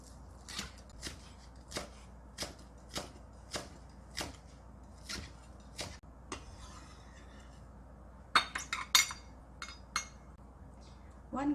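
A knife finely chops scallions on a cutting board, a sharp regular tapping of about a dozen evenly spaced strokes, then a quick irregular burst of faster chops, close and crisp.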